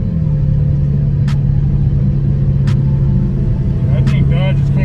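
A Dodge Hellcat in track mode pulls hard with a loud, steady engine roar heard from inside the car, the pitch climbing and dropping as it runs through gear shifts. Voices talk over the engine.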